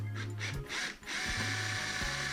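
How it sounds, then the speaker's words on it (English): A power drill whirs steadily at close range, pausing briefly as it stops and restarts, with a grinding buzz as it bites through plastic while fitting a KTM Duke 390 tank bag mount. "I'm just drilling through."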